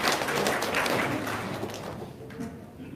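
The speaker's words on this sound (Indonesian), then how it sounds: "Oke, tepuk tangan dong, luar biasa." An audience at a seminar claps in a thick, continuous wash that holds strongly for about two seconds, then thins and tapers off.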